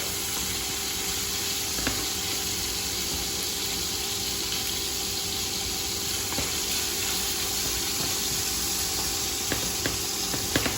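Garlic sizzles steadily in a hot frying pan alongside chicken scaloppine, a constant dense crackling hiss with occasional faint pops and clicks of a utensil.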